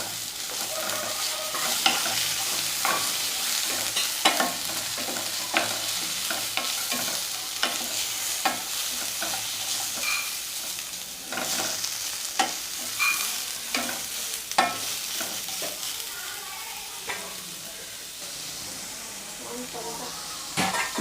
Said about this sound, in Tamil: அதையும் அப்படியே சும்மா வதக்கிட்டு இப்போ கேஸ் ஸ்டவ் ஆஃப் பண்ணிடலாம்